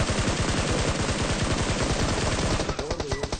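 Rapid automatic gunfire from PUBG Mobile, a dense, loud stream of evenly spaced shots that rattles on steadily before thinning into scattered echoing reports near the end.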